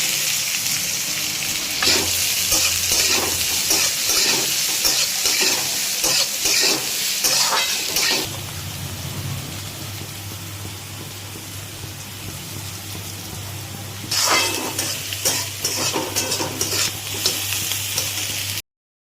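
Whole cumin seeds and sautéed onions fry in leftover oil for Bengali egg do pyaza, a steady close sizzle with bursts of stirring and crackling, easing to a softer bubbling hiss in the middle before loud stirring returns.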